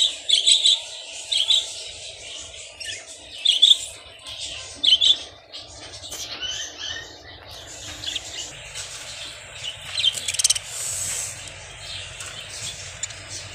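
Budgies in a new cage chirp in sharp, high, scattered bursts over a steady low hum, with occasional rustling and fluttering among the calls.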